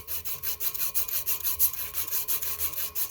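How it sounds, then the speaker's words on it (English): A Scotch-Brite pad scrubs back and forth over a metal tube in quick, even rasping strokes, close and fairly loud, repeating rhythmically with no talking. "hit it with some more Scotch-Brite"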